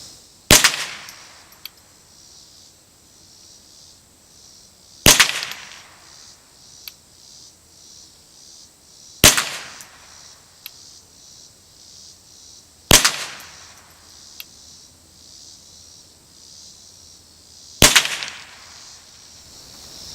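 A Mossberg Blaze .22LR rifle fires Winchester bulk ammunition at a target: five sharp, loud cracks spaced several seconds apart, each with a brief ringing tail, and quiet between shots.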